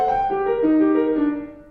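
A turn ornament from the Gigue of Bach's Partita No. 1 BWV 825, played slowly: a short line of sustained, ringing notes moving stepwise, close and clear with no talking.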